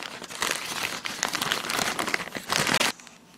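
A plastic bag holding a small gold betta fish is unwrapped, giving loud, close crinkling and rustling that runs continuously for a few seconds before stopping abruptly.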